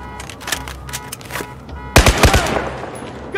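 Rapid bursts of automatic gunfire in Battlefield 4, a quick rattling volley that grows louder and denser after the first couple of seconds, with game ambience underneath.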